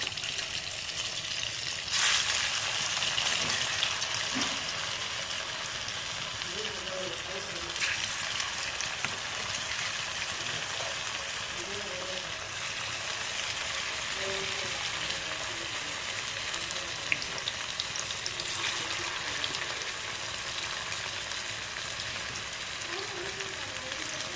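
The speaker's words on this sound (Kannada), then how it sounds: "ಬಿಸಿ ಆಗೈತೆ ಇವಾಗ ಹಾಕೋಣ ಹಿಂಗೆ ಒಂದೊಂದೇ ಹಾಕಬೇಕು" Chicken kebab pieces frying in hot oil give a steady, broad sizzle with crackling pops that runs throughout, loud and close, with no talk over it.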